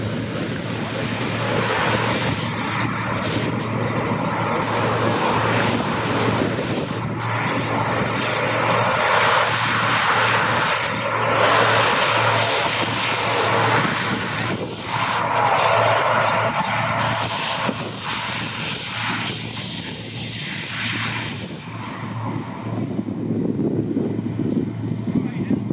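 U.S. Air Force Thunderbirds F-16 fighter jet at the Cleveland National Air Show, a loud, continuous jet roar rising and falling as it climbs and passes, with an announcer talking over it throughout.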